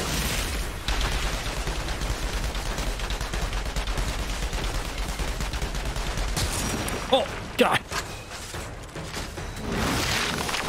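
Rapid, sustained gunfire in the video game Outriders sounds as a continuous rattling fusillade with heavier shots and bursts near the end, under occasional speech.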